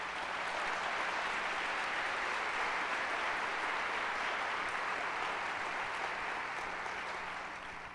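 A church congregation applauds during a sermon, a steady, even wash of many hands clapping together, fairly distant and soft, continuing without pause and fading slightly at the end.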